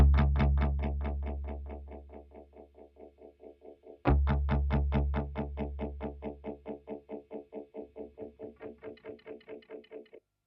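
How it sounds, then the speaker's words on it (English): A guitar runs through a Strymon Volante echo unit set for intense delay, with a struck chord followed by a long train of rhythmic, distorted repeats that fade steadily, then restruck and trailing off again into fainter echoes. "You probably wouldn't ever use it like that unless you really wanted that kind of intense echo"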